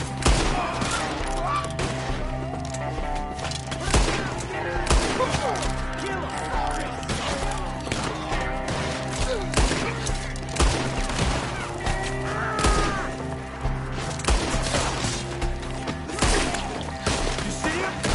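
Rapid shootout in the Western video game Red Dead Redemption 2, a dense fusillade of gunshots cracking continuously over game music, with occasional shouted voices in the mix.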